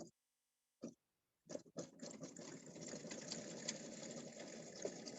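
Embroidery sewing machine stitching steadily during a quilting class, a continuous whirring hum with rapid mechanical chatter that starts after a couple of short bursts and gaps.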